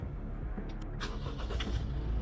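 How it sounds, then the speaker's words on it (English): A 2013-2018 Toyota RAV4 engine cranks and catches in a brief, faint start, then settles into a low steady idle. "So just turn on my car just to see if power's up to the head unit"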